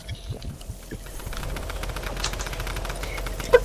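A drum gun fires in Fortnite, giving a quick run of rapid rattling shots up front that blends into a busier, moderately loud stretch of game sound.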